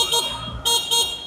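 Horn of a Yamaha Gear Ultima 125 Hybrid scooter, two or three short honks with a bright electric tone, close by.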